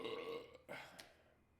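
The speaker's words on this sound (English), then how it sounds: "I got a lot of burping to do." A couple of short, low burps follow a longer throaty belch, fairly quiet and close.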